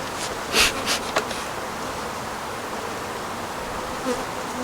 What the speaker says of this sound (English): Bees emerging.